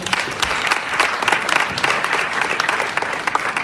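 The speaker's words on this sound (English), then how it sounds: "let's give him another round of applause" Audience applause at a school graduation ceremony, steady dense clapping from a large crowd that fills the whole stretch at an even level.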